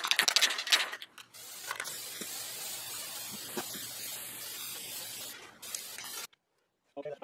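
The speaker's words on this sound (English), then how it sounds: "So let me give it a good spray and see how it goes." A spray can hisses steadily as it coats a wooden sign, one long continuous burst with a few clicks and short pauses, ending in near silence.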